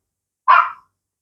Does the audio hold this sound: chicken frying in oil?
no